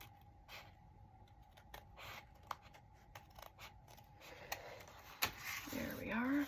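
Small scissors snip paper close up while a journal folio is trimmed, with soft clicks and cuts, faint paper rustling, and a louder crinkle of paper handling at the end.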